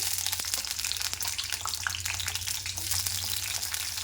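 Green chillies fry in hot oil in a pan for gongura flower chutney, giving a steady, close, dense sizzle that holds for the whole stretch with no one talking.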